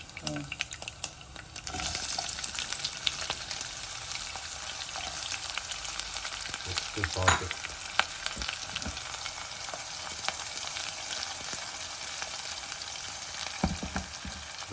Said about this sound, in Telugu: వెల్లుల్లి వేసిన తర్వాత ఆనియన్స్ వేస్తున్నా కొంచెం